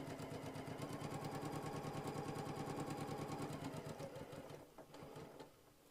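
A sewing machine stitching a fabric seam for a goodie bag, a rapid steady mechanical chatter close by that slows and stops near the end, followed by faint handling noises.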